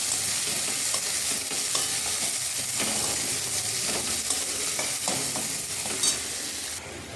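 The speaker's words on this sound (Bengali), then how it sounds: "পেঁয়াজটা একটু লাল লাল করে ভেজে নেব" Steady sizzling of onions frying in a pan, with occasional stirring scrapes, continuous and close throughout with no talking.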